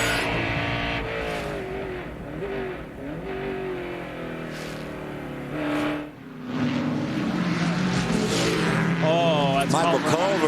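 Race car engine at speed on the Mid-Ohio circuit during a World Challenge GT race, roaring loud and steady with revving pitch sweeps and a brief dip, under continuous commentator talk.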